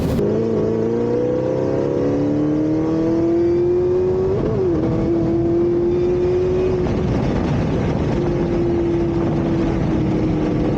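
A Camaro ZL1 1LE with a carbon front end pulls hard from 60 to 130, its engine note climbing steadily and loudly for over ten seconds with a brief shift-like dip partway, heard close from inside the car.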